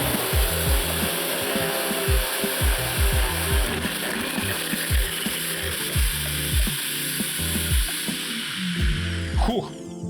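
A Procraft PSL2500 or PSL2800 electric garden shredder chips a branch, with a steady loud motor roar and rapid repeated crunching snaps from the blades biting the wood, close by, ending in a brief clatter.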